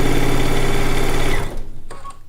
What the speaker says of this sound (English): please don't stop sewing when you get this one done